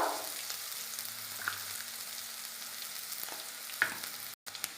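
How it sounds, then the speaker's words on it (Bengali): Onions sizzle steadily in a pan, a soft close frying hiss with a few faint clicks of stirring. "এবার পেঁয়াজটা ভাজা ভাজা হয়ে যাচ্ছে"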